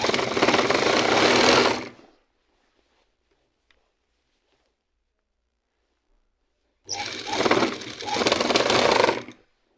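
A foot-operated sewing machine stitches a kameez in two loud, steady whirring bursts, about two seconds at the start and again near the end, with near silence between.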